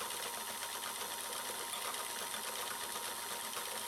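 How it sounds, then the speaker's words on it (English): A Singer 221 Featherweight sewing machine winds a bobbin, giving a steady, even mechanical whir that runs close and unbroken for the whole stretch with no speech. "slowly start the machine to wind the bobbin"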